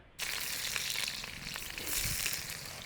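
Onions hitting hot oil at a farmhouse kitchen, a sudden loud sizzle that bursts in after a brief quiet moment and keeps crackling steadily, with light stirring clatter near the end.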